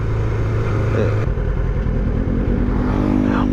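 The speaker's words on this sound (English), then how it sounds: "That thing's not even a motorcycle. That's like a little scooter dude or something." A small scooter engine buzzes nearby, its pitch shifting as it revs and passes, over steady road and engine noise.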